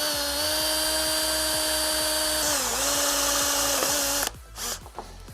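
A power drill whines steadily and close while boring a 7/16 inch hole for a TRE air locker install, its motor pitch dipping briefly under load before it stops and some handling clatter follows.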